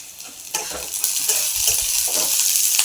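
Onions frying in a pan for aloo posto sizzle loudly and steadily, with a spatula scraping and stirring through them in irregular strokes.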